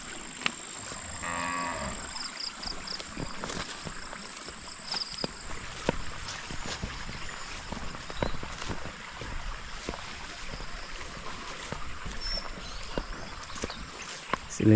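Cattle moo on a farm where goats and pigs are also kept, the calls sitting amid steady outdoor background noise with some faint talk, continuous over about fifteen seconds.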